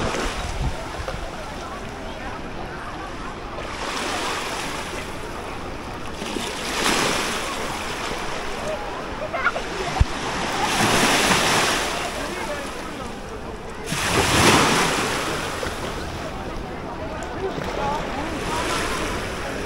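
Ocean waves at Labuan Sait beach in Uluwatu, Bali surge in and wash out in repeated broad swells, loud and close, over constant surf roar and wind noise, with a voice speaking over the water.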